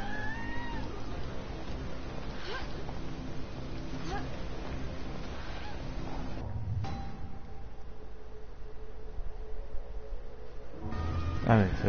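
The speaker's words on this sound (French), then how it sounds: "Et ça, un chat sur le toit." A cat meowing on a roof in a sewer-and-zombie video game, with several drawn-out wavering meows and caterwauls over a constant background hum, along with a stretch of quieter ambience and a burst of noise at the end.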